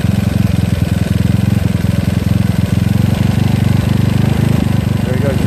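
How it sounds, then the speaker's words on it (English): A GY6 scooter engine fitted with an OKO PWK 30mm carburetor runs after a mixture screw adjustment. It revs loud and close in a rapid, even throb that holds steady throughout. "You hear my engine roaring again"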